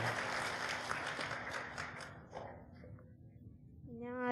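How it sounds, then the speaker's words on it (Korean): A church congregation at a Sunday worship service breaks into applause, loud and dense at first, then thinning to scattered claps before a voice starts to speak at the end. "우리 박수 크게 한번 쳐줍시다."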